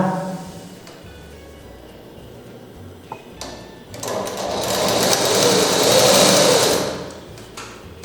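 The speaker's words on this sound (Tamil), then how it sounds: "இதுக்கு இணையாக இது மேலே ஒரு தையல் போடணும்" A sewing machine stitches cloth in a tailoring lesson, with short starts and stops, then a louder sustained run of rapid needle clatter near the end; no talk.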